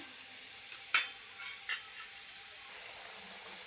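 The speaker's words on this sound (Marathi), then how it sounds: "तुम्ही पाहू शकता आपला मसाला शिजत आहे जे कांदा टोमॅटो पेस्ट केलेली होते ते शिजत आहे" Onion and tomato masala paste cooks in a pan with a soft, continuous sizzle and hiss, broken by two light stirring scrapes, alone and without talk.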